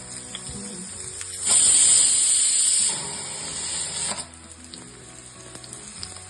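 Whole coriander seeds roasting in a pan for a home-style mutton dish, a loud hissing sizzle surging for about three seconds, then a quieter crackle with scattered pops and clinks.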